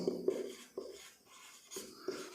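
Chalk or marker scratching on a board during a maths lesson, several short strokes and taps in an irregular rhythm, close and moderately quiet, with no talk.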